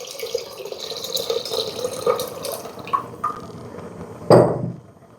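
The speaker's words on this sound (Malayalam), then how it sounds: "നമുക്ക് വെള്ളം ഒഴിച്ച് കൊടുക്കാം" Water being poured into a pot for Kerala sadya sambar, about eight glasses in all: light drips and clinks at first, then one loud, close splashing gush near the end before it fades.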